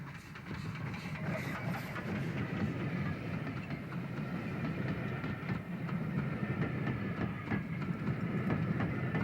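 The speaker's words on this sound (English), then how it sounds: "This train is travelling over a recently reopened section of the railway." A steam train rumbles steadily along the tracks with rhythmic clickety-clack of wheels over rail joints, continuous and fairly close.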